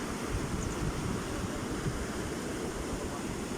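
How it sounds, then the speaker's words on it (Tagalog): Strong water rushes steadily and loudly, a dense continuous roar like a fast-flowing river, with no voices. "Malakas yung tubig eh."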